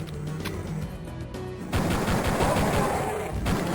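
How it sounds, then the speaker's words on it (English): Pistol gunfire in the retro shooter Duke Nukem 3D starts after a quieter stretch, a loud, dense burst of rapid shots that continues to the end. "If you're wondering how his pistol works, he fires 12 rounds, and then he reloads"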